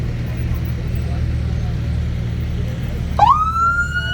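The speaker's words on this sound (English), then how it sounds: "There's the siren." A fire truck siren at a small-town county days parade in Ordway, Colorado, rising sharply with a wail after a stretch of low engine rumble and street noise.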